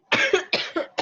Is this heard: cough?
yes